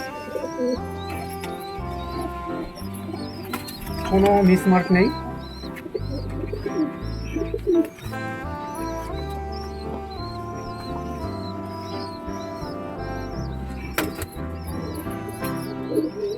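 Pigeons coo softly and repeatedly in a loft, with occasional wing flaps and scuffles, while someone talks over them close to the microphone.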